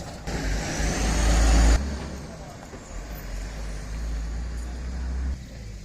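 A taxi travels along a road in Belize with a constant engine drone, a short rise in power near the start, then an even rolling hum at close range.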